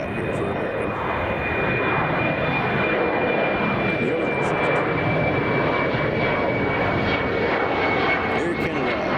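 An Air Canada Express regional plane departs O'Hare in Chicago, its engines giving a steady, fairly loud broadband roar with a thin whine running through, while a voice talks faintly over it.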